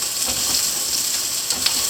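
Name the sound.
garlic frying in olive oil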